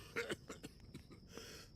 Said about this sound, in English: I'll have to do this quickly, before this man stops coughing.